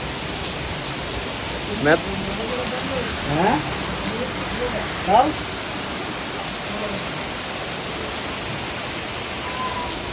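Steady heavy rain hisses throughout, broken by a few brief voices, with a single word spoken near the start.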